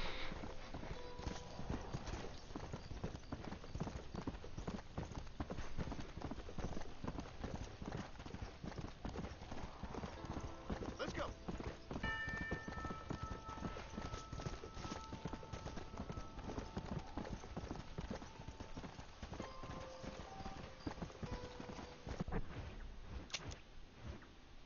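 Steady clip-clop of a zombie horse's hooves trotting on and on in Red Dead Redemption: Undead Nightmare, with a faint tonal whine and beeps layered in the background.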